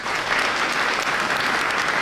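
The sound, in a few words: audience applause at a ceremony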